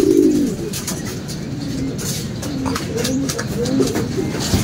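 Racing pigeons circle overhead during a mid-toss on Mindanao Avenue, with repeated soft cooing and scattered bird calls close by over a steady background hum; no speech is heard.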